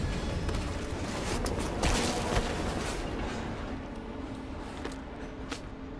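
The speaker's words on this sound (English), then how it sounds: "Train's slowing down." In Call of Duty Black Ops Cold War, a train rumbles low as it slows down, with scattered metallic clanks and thuds over a steady, fairly quiet rolling roar.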